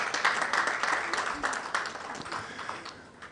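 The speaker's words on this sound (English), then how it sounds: "Give her a round of applause." An audience applauds at the launch of the 2022 National Science and Maths Quiz, a faint, spread-out patter of many hands that fades away over a few seconds.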